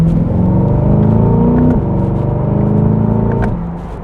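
A 2020 Chevrolet Corvette C8 V8 with an 8-speed paddle-shift gearbox accelerates hard, its loud close engine note climbing in pitch, dropping sharply at a gear change, then climbing again before easing off.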